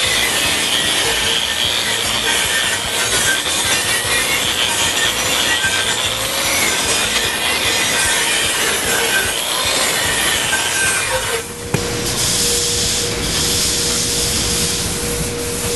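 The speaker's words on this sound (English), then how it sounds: "after the tooling's done, we take it over and wire wheel it to get all the burrs off of it" A wire wheel brushes burrs off a freshly tooled bronze grave marker, a loud continuous grinding rasp with a steady roar that shifts and briefly dips partway through before resuming.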